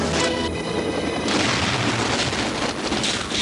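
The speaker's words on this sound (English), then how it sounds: "Some movie explosions are so enormous that there's only one way to pull them off" A large movie pyrotechnic explosion staged with miniatures produces a loud, sustained broadband roar and rumble that fills the whole stretch with no pause, with no voices over it.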